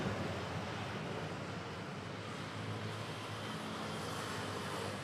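An Ethiopian Airlines Boeing 787-9 Dreamliner arrives at Manila airport, a faint, distant, even wash of jet noise like steady wind, unchanging for a few seconds with no voices.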